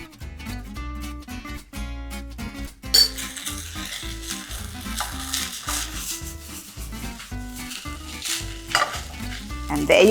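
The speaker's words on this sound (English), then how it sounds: "Just be careful जब आप mix कर रहे हैं कि you don't break the beautiful long grains of rice." Freshly boiled basmati rice being stirred in a hot sizzling pan, steady frying hiss with rhythmic scrapes and clinks of a spoon against the pan, loud and close with no voices.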